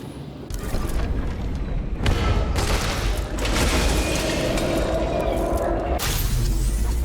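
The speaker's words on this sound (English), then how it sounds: "it's a gunfire" Gunfire in the video game Nobody Wants to Die, rendered as booming thuds and a rumbling burst layered with mechanical noise, loud and close with sharp onsets.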